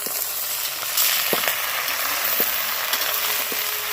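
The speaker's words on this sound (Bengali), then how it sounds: "এগুলো ভালো করে ভেজে নিতে হবে" Chopped vegetables with tomato and chili sizzling steadily in hot oil for a dried fish curry, a soft continuous fry with a few light stirring clicks and taps.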